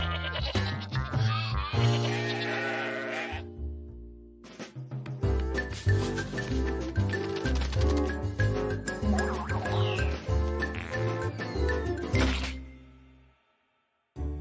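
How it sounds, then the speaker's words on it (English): Pygmy goats bleat repeatedly over a dense bed of music, loud and continuous for most of the stretch, then a brief silence near the end. "I brought all of the goats to you!"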